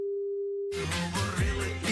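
A single steady telephone tone hums alone for under a second, then cuts off as loud music with a voice takes over.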